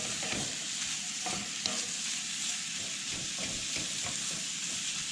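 Potatoes frying in a one-pot camping meal cooked outdoors from a truck in freezing weather, a steady close sizzle with intermittent scraping stirs and no talk.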